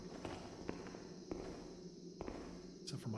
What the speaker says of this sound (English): Except for my own footsteps.